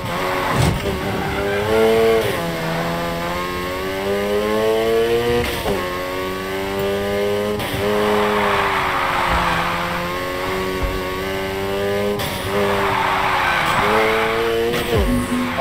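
A car drifts in the racing game Need for Speed Heat, its engine revving and rising in pitch again and again while the tires squeal through long slides, loud and close.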